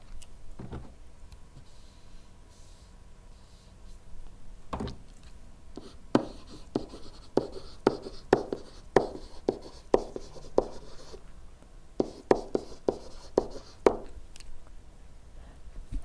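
A pen or pencil writes by hand on paper in a quiet room, making short scratchy strokes with gaps between them and a quicker burst of strokes near the end, with no voices.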